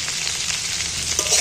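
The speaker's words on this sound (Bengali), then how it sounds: "ভেজে নিচ্ছি নাড়াচাড়া করতে।" Amla frying in hot oil with salt and turmeric, a steady close sizzle with faint stirring scrapes running through the whole stretch, no voices.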